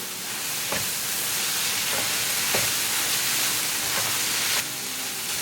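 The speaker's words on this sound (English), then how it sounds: "I'll start the pan, I'll open the lid, mix it well." French beans in a pan on medium gas, uncovered after three minutes under the lid, give a loud continuous sizzling hiss broken by a few soft stirring knocks, close and steady without speech.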